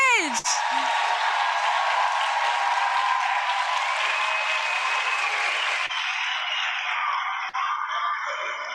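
An audience at the International Women's Conference 'Our Revolution: Liberating Life' claps for the organizers, a dense, sustained wash of applause that carries steadily throughout, with a voice rising over it near the start.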